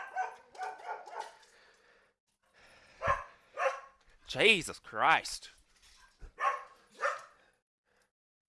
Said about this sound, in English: Calm down, dog.